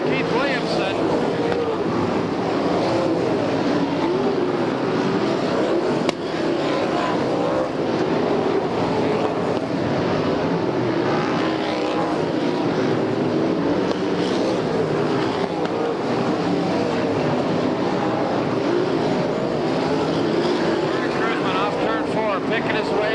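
SCRA sprint cars race around the Bakersfield track, with a dense continuous engine roar from the pack over the full stretch and a race announcer talking steadily over it.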